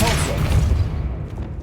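A Depulso force spell lands in Hogwarts Legacy, a dense, loud burst of low booming thumps rolling through the whole moment amid game effects, with a voice shouting the incantation.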